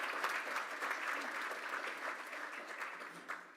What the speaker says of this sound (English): please join me in a round of applause to welcome our guests